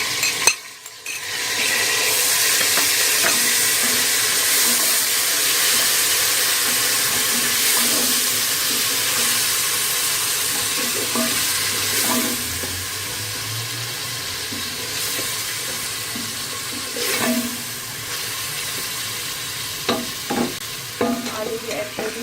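Tomatoes fry with browned onions in a pot, a loud close sizzle that runs continuously, broken by occasional scraping and knocking of a stirring spoon.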